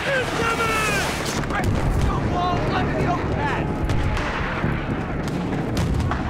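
In the video game Battlefield 3, mortar fire and explosions roll on in a dense, continuous barrage of booms and crackling gunfire, with shouting voices running over the combat noise throughout.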